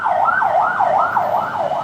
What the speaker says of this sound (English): I mean, we got ambulances